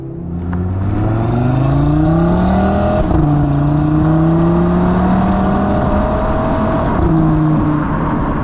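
A 2022 Audi RS 3 engine revs up close and loud, climbing through the revs twice with a brief dip between pulls, the tone sweeping upward and holding before easing off.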